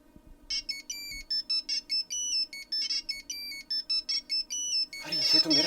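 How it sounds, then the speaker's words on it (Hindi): A mobile phone ringtone plays a repeating electronic melody of short, bright tonal bursts in a steady rhythm for several seconds, fairly loud and close. It ends as a wash of louder noise comes in. "ये तो मेरा सेल फोन है।"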